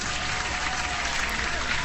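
Dense, steady hand clapping runs without a break through the short moment, celebrating a giveaway winner on a crypto news stream.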